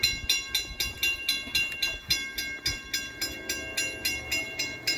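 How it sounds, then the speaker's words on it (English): A Norfolk Southern freight train rolls past at night with a steady rhythmic clickety-clack of wheels over rail joints, evenly spaced beats recurring about three times a second, loud and close with a faint horn-like tone underneath. "here comes the first train right about now"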